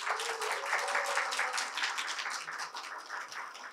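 Soft, subdued applause from a seated audience at a Korean certification ceremony, a steady patter of scattered claps holding at a modest level for a few seconds with no cheering.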